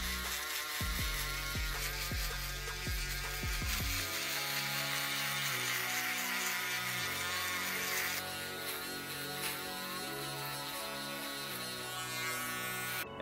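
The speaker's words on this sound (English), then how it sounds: "So I'm going to take my shaver and I'm just going to go over that and clean it up." An electric shaver buzzes continuously while trimming and cleaning up a beard, a close, steady mechanical hum with shifting pitch as it moves over the hair, a few rhythmic pulses at the start and no talking.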